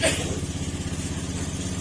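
A motorcycle engine idles just after starting, giving a steady, even putter at close range with a slight rhythmic pulse throughout.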